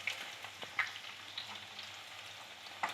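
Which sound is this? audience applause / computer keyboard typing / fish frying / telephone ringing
fish frying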